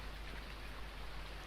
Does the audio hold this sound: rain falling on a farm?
yes